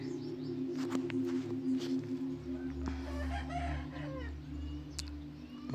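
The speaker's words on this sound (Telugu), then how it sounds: "మొత్తం అది చుట్టూ అడవి ఉండటం వల్ల పక్షుల సౌండ్స్ అయితే దారుణంగా ఉన్నాయి" A rooster crows and chickens cluck close by, with other birds calling around them in a forested hillside setting near a temple. Steady, moderately loud calls and a low background hum run throughout, with no speech.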